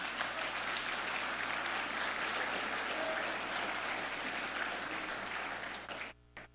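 A church audience applauds the women in a steady, dense roar of clapping that fills the room, then cuts off abruptly near the end with a brief electronic tone.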